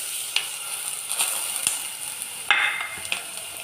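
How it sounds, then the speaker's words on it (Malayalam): Crushed green gram paste hits fried mustard seeds in a pan for a green gram thoran, giving a steady sizzle broken by a few sharp stirring scrapes and clatters. "ഈ കടുക് വറുത്തതിലോട്ട് നമുക്ക് ആദ്യം ഈ ചതച്ച് വെച്ച അരപ്പിട്ട് കൊടുക്കാം."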